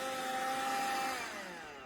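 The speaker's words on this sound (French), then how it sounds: "Ça fait un petit bruit d'aspirateur." A Kärcher WV 2 Plus N cordless window vacuum runs with a steady, close whine and airy suction hum that tapers slightly near the end, with no talking.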